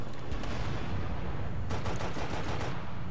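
The Scorpion tank's primary weapon fires in Halo: Spartan Strike, with loud, heavy bursts of rapid gunfire and booming blasts, a dense cluster early on and another burst of shots later, with no talk.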